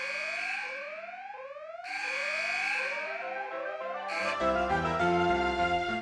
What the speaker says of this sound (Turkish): Yangın alarmına dönüyor.